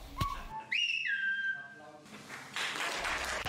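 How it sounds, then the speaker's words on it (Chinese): Silbo Gomero, the whistled language of La Gomera, performed in a restaurant: a sharp tap, then a clear rising and sliding whistle phrase held for about a second, followed by room noise and faint talk. "餐厅特别安排了一个桥段，表演他们如何用口哨语沟通。"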